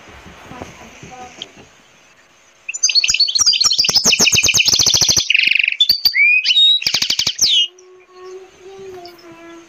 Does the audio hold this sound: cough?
no